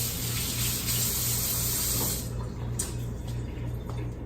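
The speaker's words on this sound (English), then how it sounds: "I'm gonna wash my hands." Tap water runs in a steady, close spray while hands are washed in a home kitchen during soup prep, loud at first and then softening as the flow is interrupted.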